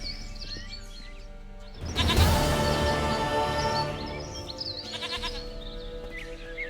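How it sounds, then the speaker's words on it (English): A goat in The Witcher III bleats loudly and up close, a long wavering cry followed by a shorter bleat, with faint birdsong in the background. "Goat of mine, dearest, sweetest goat."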